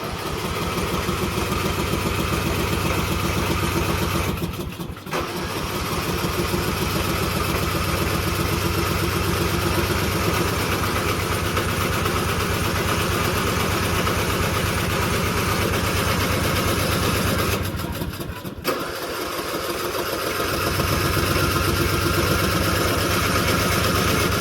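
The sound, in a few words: lawn mower engine running after jump start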